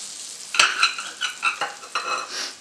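A tuna melt grilled cheese sizzles in a pan, a bright crackling fry broken by a few clinks and scrapes of a utensil against the cookware.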